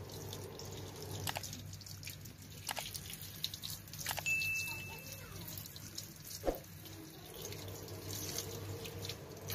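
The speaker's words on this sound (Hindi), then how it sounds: "अभी मैं जल्दी से धो लेती हूँ चावल" Rice being rinsed under a running kitchen tap for biryani, a steady stream of water into the sink with a few sharper splashes and drips, fairly quiet and without talk.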